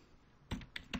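Three or four crisp computer keyboard keystrokes while typing code, quiet and close, coming in a short uneven burst after a moment of near silence.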